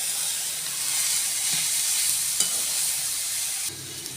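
Maggi noodles with masala are stirred in a hot pan, giving a steady frying hiss and sizzle with a few scraping knocks of the spoon partway through, close and alone without talk.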